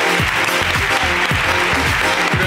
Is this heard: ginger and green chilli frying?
no